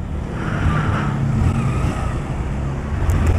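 Cars pass by at a busy petrol station, a steady low rumble of engines and road noise with no clear gaps, fairly close and continuous throughout.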